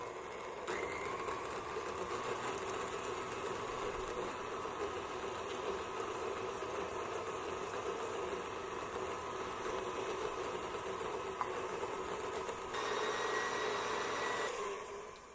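Electric mixer beating cream cheese and sugar in a bowl, a steady close motor whir that holds evenly throughout and rises slightly in the last few seconds.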